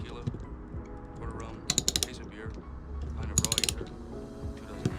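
A ratchet with a 7mm socket tightens a nut on the manual choke of a 1985 BMW R80 motorcycle, giving two quick bursts of close, sharp clicking amid faint handling noise.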